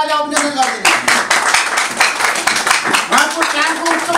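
An audience at a youth club ceremony in Nepal claps to honour world trail runner Mira Rai, with sharp, fairly close individual claps merging into rhythmic applause and some voices talking over it.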